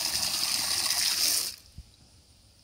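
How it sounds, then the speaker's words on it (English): Water rushes loudly into a pipe at a septic distribution box, a steady gushing flow that stops abruptly, leaving quiet dripping. "The water flows in with just a depth of where the thread begins and the head ends"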